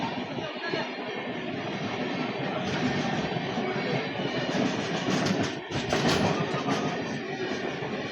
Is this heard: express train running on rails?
yes